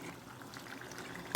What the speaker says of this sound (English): So we allow it to fry more